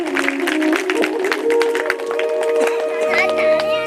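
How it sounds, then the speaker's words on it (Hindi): Audience applause during a Bhagavat religious discourse: a brief stretch of dense, steady clapping from a crowd, heard alongside sustained tonal music and talk. "जोरदार ताली बजाकर स्वागत करेंगे।"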